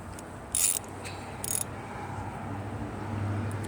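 A socket wrench loosening a car battery terminal nut makes two short, close ratcheting bursts about a second apart over a low, steady background hum.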